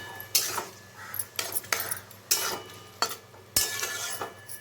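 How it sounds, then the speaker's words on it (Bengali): Spice paste with turmeric being sautéed in a pan for an aloo soyabean curry, heard as a spoon scraping and stirring in repeated strokes over a soft, steady sizzle, close and moderately loud, with no talking. "এখন মশলাটাকে আমি খুব ভালো মতন কষিয়ে নেব"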